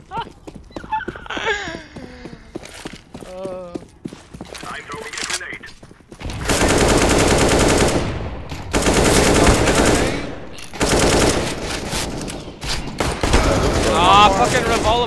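Rapid bursts of revolver gunfire in a CS:GO match on the de_overpass map, loud and dense volleys dominating the second half, with players talking over the shooting.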